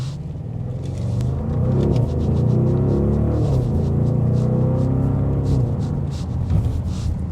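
A 2026 Audi RSQ8 Performance SUV's exhaust gives a steady, deep rumble with a constant low hum throughout, sounding close and even with no sharp revs.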